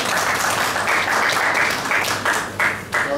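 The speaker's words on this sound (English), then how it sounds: "Let's give him a round of applause" An audience at a repatriation and investment conference in Ghana applauds, a dense steady wash of clapping that fades slightly toward the end, with no talk over it.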